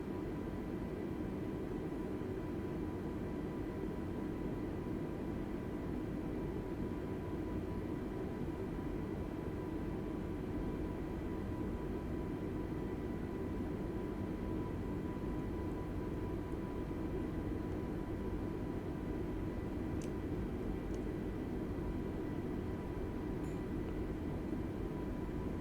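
Airbus A320neo taxiing toward the runway in Microsoft Flight Simulator, a steady, unbroken engine hum and broadband whine at idle thrust that holds constant throughout with no speech.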